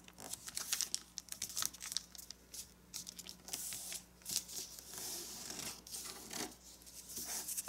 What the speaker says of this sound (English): the crease is going to meet with point A. So just fold it right there